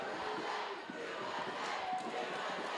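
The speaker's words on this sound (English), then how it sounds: "We can hear Team USA support crew cheering very loud." Team USA supporters cheer loudly in a crowd at a junior roller derby world cup bout, a dense, steady roar of voices and shouts lasting throughout, with no clear single speaker standing out.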